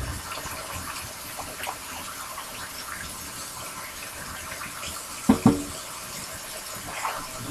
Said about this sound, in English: Giving my hands a quick wash.